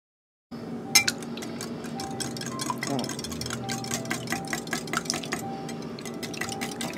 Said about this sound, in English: We'll whisk our eggs up.